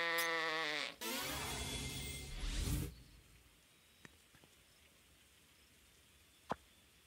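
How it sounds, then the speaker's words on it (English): Sheep bleat in a farming video game, two loud, close, wavering calls one after the other, followed by a quiet stretch broken by a few faint clicks. "you can kill sheep in this game"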